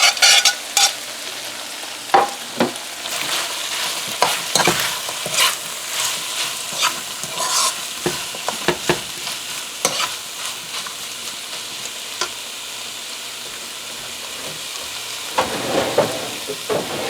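Shallots, onion and pepper sizzle and crackle in a hot pan for chicken fried rice, with steady frying hiss and repeated clatter of stirring throughout.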